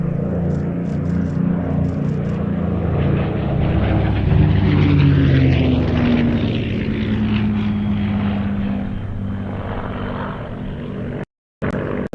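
A Spitfire Mark 16 flies past at an airshow, its propeller engine droning loudly as it approaches and recedes, the pitch sliding downward as it passes, ending in a brief dropout.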